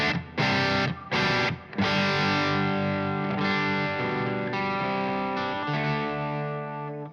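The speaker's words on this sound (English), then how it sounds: "For the first channel, I just want to have a bit of reverb." Electric guitar played through a Line 6 Helix with a Red Seven Leviathan preamp and a touch of reverb, a few choppy distorted stabs followed by a loud sustained ringing chord that slowly decays.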